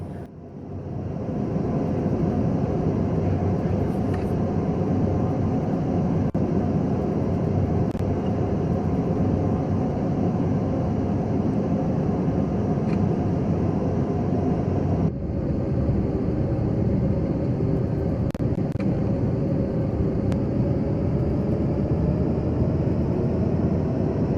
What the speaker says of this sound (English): the airplane will start moving toward the runway